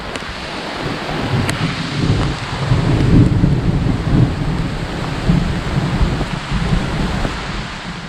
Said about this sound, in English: Yeah, there's thunder.